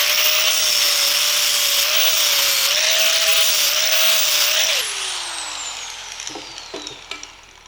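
A power tool slices through the inner bearing race on a 1987 Camaro axle, a loud, steady whining cut that winds down after about five seconds, followed by a few scattered metallic clanks.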